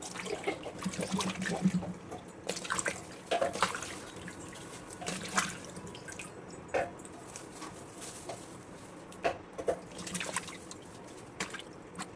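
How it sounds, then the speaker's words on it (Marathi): Crabs being washed by hand in a vessel of lukewarm water, with irregular splashes, drips and sloshing bursts close by, repeating through the stretch over a low background. "कोमट पाण्यामध्ये सर्व खेकडे साफ करून घ्यायचे दोन तीन पाण्यानं स्वच्छ धुवून घ्यायचे"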